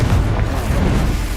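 Hogwarts Legacy's Confringo explosive spell lets out a loud, deep booming blast that rumbles on without pause for a brief moment.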